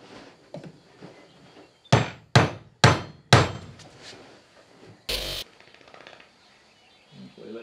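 A hammer drives a part on a Land Rover Series 1 rear differential and axle housing, with four sharp, loud metallic blows in a steady rhythm, followed by a brief harsh burst and quieter clatter.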